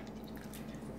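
Buttermilk drips steadily from freshly churned European-style butter as it is squeezed by hand, a faint, close patter lasting about a second.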